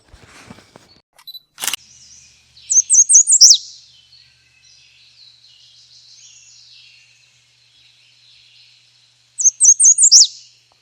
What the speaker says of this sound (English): I've been hearing a white-eyed vireo